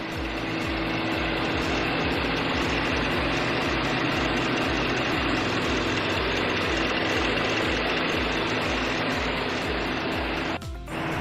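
A 2017 Mercedes-Benz AMG GT engine idling up close, a loud, steady low rumble with a regular pulsing beat and no speech.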